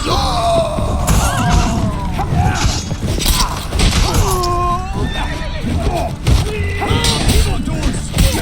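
Repeated horse whinnies and neighs during a medieval battle in The Witcher 3, loud and close, mixed with hoof clatter, clanking combat noises and shouting voices.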